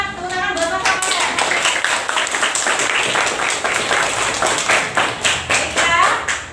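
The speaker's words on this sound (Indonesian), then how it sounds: "tepuk tangan buat pasangan." A classroom of students claps in a lively round of many hands. Toward the end the claps become individually distinct and rhythmic, following a teacher's brief speech at the start.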